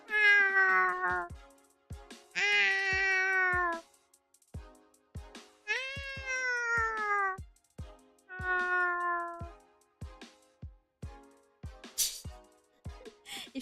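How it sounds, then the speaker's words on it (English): A cat meows repeatedly as a stream redeem sound, several loud, drawn-out rising and falling calls separated by short gaps, close and clear with nothing else underneath. "I see MDK's redeem another Nyan"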